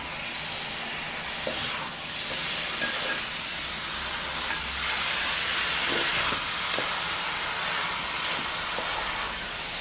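Beef dropped into hot masala with extra ghee in a pan sizzles and hisses steadily, a continuous close frying noise with faint clinks, no talk.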